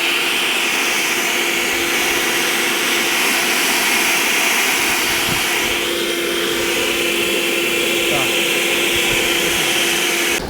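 Narion E435C 42V cordless cannon leaf blower running at full power outdoors, a loud constant roaring whoosh with a steady high whine tone, continuous for the whole stretch.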